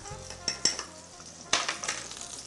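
A whisk stirs a honey and lemon juice glaze for salmon, with a few sharp metallic clinks against the bowl over a low steady stir, close up and with no talking.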